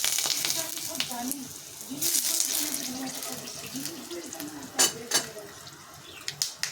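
Whole cumin, two dried red chillies, whole garam masala and bay leaf sizzling in hot oil, a steady close hiss with a few sharp crackles and pops near the end, a voice talking over it.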